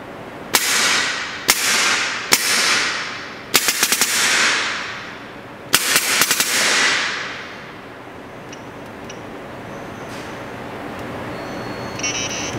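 An XFactor LV-1 paintball marker firing, with sharp single shots and short quick bursts, each leaving a fading hiss, then a quiet tail.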